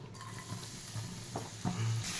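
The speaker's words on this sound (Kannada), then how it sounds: "ಎಣ್ಣೆಗೆ ಈರುಳ್ಳಿ ಹಾಕ್ಕೊಂಡು ಸ್ವಲ್ಪ ಫ್ರೈ ಮಾಡ್ತಿದ್ದಾರೆ" Onions frying in oil in a home kitchen, making a soft, steady sizzle with a few brief stirring scrapes and clicks near the end.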